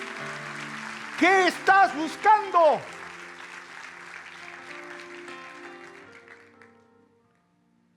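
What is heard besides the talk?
church congregation applauding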